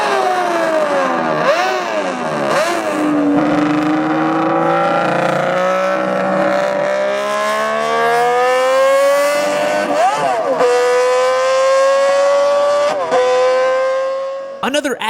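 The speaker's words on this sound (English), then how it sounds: "Here is how the Honda RC166 sounds." A high-revving 1960s Honda RC166 racing motorcycle engine screams through climbing gears, a shrill multi-cylinder howl that rises steadily, loud and close, with brief shifts between pulls.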